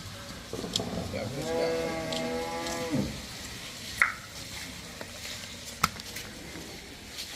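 A Jersey cross cow on a farm lets out a long, loud low moo with rising and falling tone, followed by scattered soft thumps and a couple of sharp knocks nearby.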